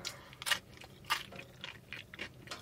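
Crunchy homemade ham and cheese pizza, cooked in a snow-covered tent, is bitten and chewed close up, with about six distinct crisp crunches spaced roughly half a second apart over soft mouth noise.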